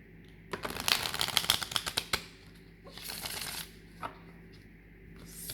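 A Moonology oracle card deck being shuffled, bursts of rapid riffling card flutter, a long dense run followed by shorter riffles with pauses between, close and clear with no talking.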